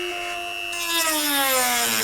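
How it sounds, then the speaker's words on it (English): A Dremel rotary tool cuts through a plastic clip on a BMW E46 325i Touring with a straight-six, giving a steady high whine whose pitch slowly drops as the bit loads up, close and continuous for about two seconds. "So I think it's time to break out the Dremel tool."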